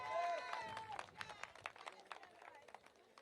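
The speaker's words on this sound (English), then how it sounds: "let us give our Minister of Education, Nigel Cathy, a round of applause" A crowd at a Labour Party political meeting in Boyd's, St. Kitts claps in a quiet, scattered burst of applause that thins out toward the end, with a voice faintly audible at the start.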